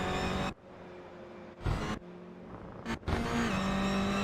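Simulated engine of a Toyota GR86 race car in a racing sim game, braking downhill into a tough zone: loud continuous engine drone with abrupt cuts and jumps in pitch as revs drop and rise, ending on a steadier high whine.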